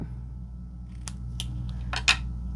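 Scissors snip paper for a Stampin' Up! Sweet Candy Canes Christmas card, giving a few short, crisp cuts close by in a quiet room, with the last cut the sharpest.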